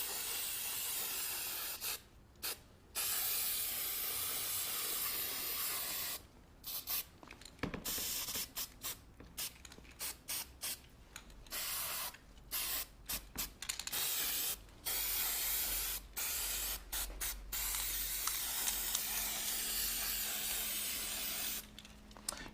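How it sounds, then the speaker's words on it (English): Aerosol spray paint hisses in repeated bursts onto a styrofoam faux chocolate cake, broad steady hissing broken by short pauses between passes, close and fairly loud, with no voices. "make sure that you're spraying in a well-ventilated area as well"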